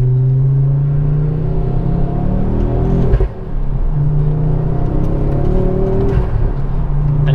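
A Ford Focus RS Mk2 engine drones steadily while driving, heard from inside the car. The low rumble holds constant with a brief dip in load midway, and there is no talk.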